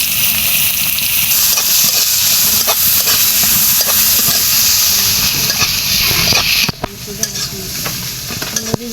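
Onions and green chillies fry in oil left from cooking crab for a crab curry, a loud close sizzle with constant stirring scrapes and clicks that eases slightly toward the end.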